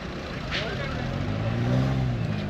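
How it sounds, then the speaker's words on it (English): Road traffic in Jaipur, India, with cars and heavier vehicles rumbling close by in a steady engine drone, one passing swell, and a brief hiss, under someone talking. "there's cars everywhere"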